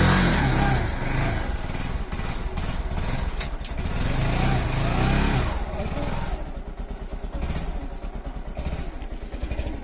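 A car engine runs hard with the accelerator held down, a loud, close, steady roar with slight rises in revs, alone without talk.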